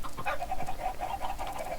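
A dog in the Minecraft video game pants in quick, rhythmic breaths, close and moderately loud, with no talking over it.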